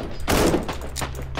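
Gunfire from the video game Warhammer 40,000: Inquisitor - Martyr: a dense, loud burst of several overlapping shots in quick succession over a steady low game hum.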